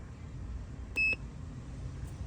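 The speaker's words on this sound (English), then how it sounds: "Now I have my battery tester here. I'm gonna test the battery." A battery tester hooked to a 12-volt Ford Transit battery gives a single short electronic beep, clear but quiet, in an otherwise silent space.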